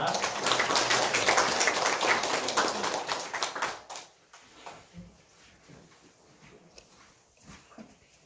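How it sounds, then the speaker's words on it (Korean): A church congregation claps in welcome at a Sunday service, a dense burst of many hands applauding together for about four seconds before it stops abruptly, leaving only quiet room sounds and small scattered noises. "우리 박수하면서 우리 환영하겠습니다"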